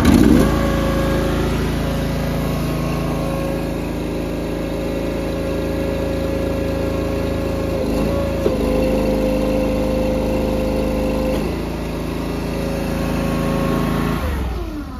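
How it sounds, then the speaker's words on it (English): A log splitter's small engine runs steadily at a fast idle throughout, a loud continuous drone with a slight dip in the middle while the hydraulic pump is being adjusted. "I'm gonna fire it up, try it, and then I'm gonna repeat the process"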